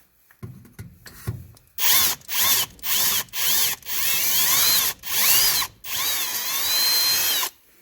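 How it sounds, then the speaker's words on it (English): A power drill runs a regular bit through a Yamaha motorcycle exhaust in short, repeated bursts, roughly seven pulses with brief pauses between them, close and loud with a whining pitch that shifts as the bit bites into the metal. "The reason why I'm pulsing the drill is I don't want to overheat the drill bit."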